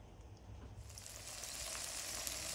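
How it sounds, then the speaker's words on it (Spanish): Tomato, onion and garlic frying in a pan, giving a soft, steady sizzle that grows brighter after a moment and continues quietly with no talking. "Vamos a freír el tomate."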